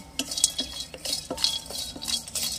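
Black cardamom and star anise being dry-fried and stirred in a pan for a mutton curry spice mix, with repeated scraping and light clinking of a spoon against the pan in a steady stirring rhythm, up close.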